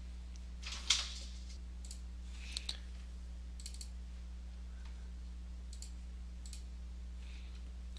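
A computer mouse clicks on checkboxes in health-records software: faint, scattered single clicks and a few quick pairs over a low steady electrical hum.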